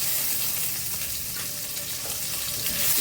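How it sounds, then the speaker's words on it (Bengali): Pumpkin pieces and green chillies fry in hot oil for a sour mango and catla fish curry, giving a steady, close hiss of sizzling that holds even throughout, with no talk. "বন্ধুরা এখন দিয়ে দিচ্ছি কয়েকটা মিষ্টি কুমড়ার টুকরো, একটু ভাজি করে দেবো।"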